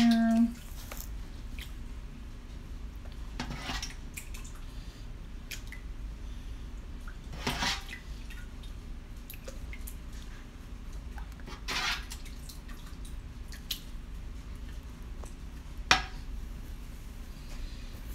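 Plum juice is poured through a strainer to catch the chunks, making a steady low trickle with occasional drips and small splashes over a constant background wash.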